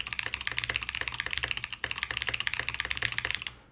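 Rapid, steady typing on a Bauer Lite mechanical keyboard with tactile switches, a dense run of crisp keystrokes close to the mic, briefly pausing midway before continuing and stopping at the end.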